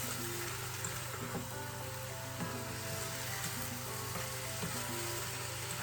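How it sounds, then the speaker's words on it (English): Chicken and vegetable stir fry sizzling steadily in a pan, a loud continuous frying hiss close by with a low hum underneath and no talking. "so I'm just going to leave that now to cook down for a bit."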